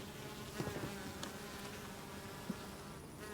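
Bees on a Berlin rooftop buzz steadily and softly up close, a continuous insect drone with a few faint ticks and bumps.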